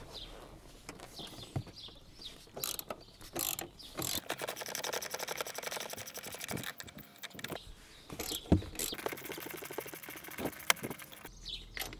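A ratchet backing out the rear seat bolts inside a 4.4 TDV8 L322 Range Rover, quick faint clicking runs with scraping and rubbing handling noises, close by and without talk.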